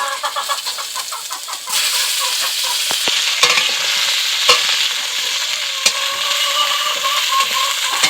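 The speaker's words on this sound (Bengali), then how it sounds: "ফুলকপিটাকে একটু ভালো করে ভেজে নিতে হবে, একটু নাড়াচাড়া করে দিলাম।" Cauliflower florets frying in oil in a pan, stirred with a utensil: rhythmic scraping at first, then a loud, steady sizzle broken by sharp clicks and knocks of the spatula against the pan.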